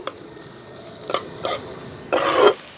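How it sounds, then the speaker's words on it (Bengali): Chopped onion and chili being stirred into hot oil in a pan, with a soft continuous sizzle broken by three louder scraping stirs, the last one longest and strongest. "তেল গরম হয়ে গেছে এখানে আমি একটা পেঁয়াজ নিয়ে কুচি করে নিয়েছি দিয়ে দেবো"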